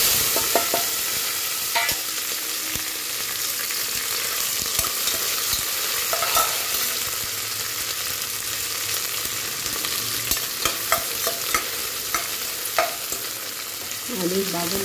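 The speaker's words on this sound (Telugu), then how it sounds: "ఫ్రై అయిపోయిందండి. ఇప్పుడు ఆనియన్ వేసుకుందాం." Onion frying in a pan after spices, with frequent stirring scrapes and spoon taps over a steady sizzle, close and fairly loud, no talking.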